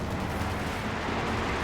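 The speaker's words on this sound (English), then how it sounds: "So that is a huge, huge explosion." A massive 376-kilogram rocket blast in the Company of Heroes 2 video game, a dense, sustained roaring rumble of explosion and debris filling the whole moment at high loudness, with no talking.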